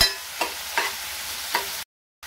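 Sandage and tomato sauté in a pan, a steady sizzling hiss broken by three soft spoon scrapes before cutting out abruptly.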